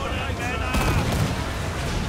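Ship cannons fire on the high seas in a naval battle against the Royal Navy, with a heavy boom landing partway through over a dense, rumbling, noisy background.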